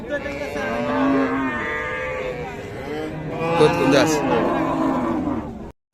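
A Friesian dairy cow at a rural cattle market in Dinajpur moos in long, drawn-out calls, loud and close. Crowd chatter and market noise run underneath.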